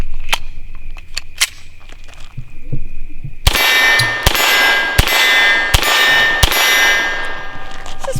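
A Walther PPQ 5-inch .22 LR pistol fires CCI Mini Mag 40-grain copper-plated round-nose rounds, with five or six sharp, loud shots in an uneven series, each followed by a ringing clang from steel targets, preceded by a few quieter clicks and pings.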